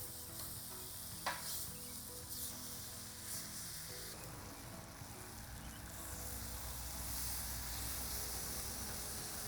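Bacon strips frying over a low fire on a Breeo X Series Sear Plate give a soft, continuous outdoor sizzle with a faint crackle, quiet and steady throughout.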